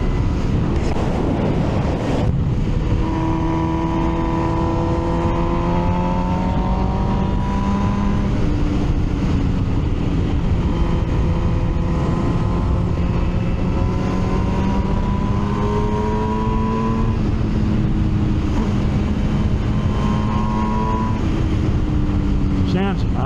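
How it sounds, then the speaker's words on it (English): An MV Agusta Brutale 1000 RR motorcycle engine on the Assen track sings through repeated rising gear pulls, each climbing tone cut by a shift and restarting, under heavy wind buffeting from riding at speed. "oh, wow, beautiful sounding motorbike"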